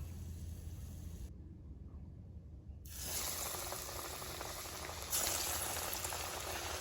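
Fish being lowered into hot oil for deep frying, a steady broadband bubbling hiss that drops out briefly, then returns louder and grows stronger again as more pieces go in.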